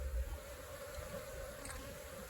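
Honeybees buzz around an open hive during a spring inspection in cooler weather, a steady close insect drone with a low hum running throughout and no talking.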